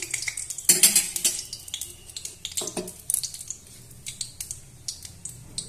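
Bay leaf, dried chilli, cardamom, cinnamon and cloves hit hot oil for a tempering, with sharp crackles, spatula scrapes and a light sizzle in irregular bursts close by.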